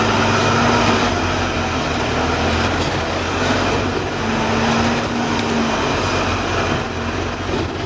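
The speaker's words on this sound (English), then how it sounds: "with two trains passing each" Two London Underground trains passing each other near East Finchley Station, heard from a passing bus: loud, sustained rail rumble with rhythmic clatter and faint wheel squeal, steady throughout with no voices.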